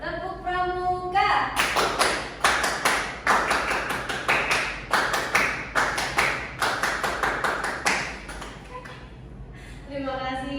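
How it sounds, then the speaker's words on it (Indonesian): A class of children performs the Indonesian scout clap, tepuk pramuka, in patterned rhythmic bursts of sharp group claps with brief pauses. Voices speak briefly at the start and the end. "Ayo, tepuk pramuka."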